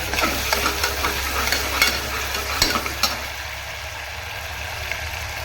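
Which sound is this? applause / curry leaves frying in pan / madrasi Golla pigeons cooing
curry leaves frying in pan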